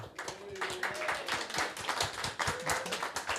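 A church congregation at a Sunday gathering applauds its production team and band. The clapping is quiet and somewhat distant, with individual hand claps distinguishable in a loose, uneven patter.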